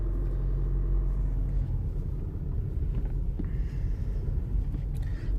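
A manual car pulls away as the clutch is slowly released in first gear. A steady deep engine rumble fills the whole stretch, and a few faint knocks come from inside the car.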